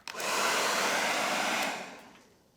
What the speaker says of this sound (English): And this is my hair dryer.